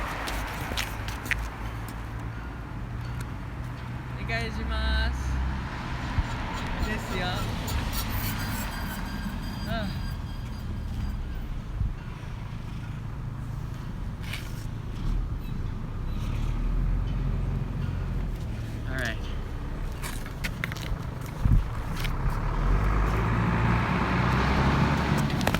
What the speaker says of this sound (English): Oh, here comes a car.